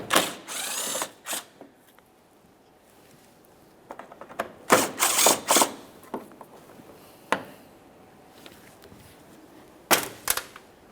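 A power driver spins out the 10mm mounting bolts on a Toyota Corolla bumper in short, sharp whirring bursts separated by quiet pauses and small clicks of handling, close and fairly loud.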